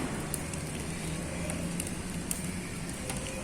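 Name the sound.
fire burning in a homemade rocket stove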